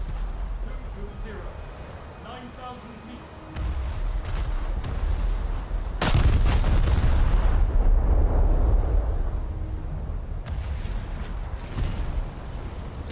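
Battleship main and secondary guns firing in a naval combat game, heavy booming blasts with a sharp loud salvo midway over a constant rumble, with a voice talking throughout.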